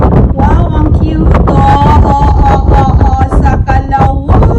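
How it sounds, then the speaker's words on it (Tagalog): Strong wind roars loudly and steadily across the microphone outdoors, with voices talking underneath. "Lakas ang hangin."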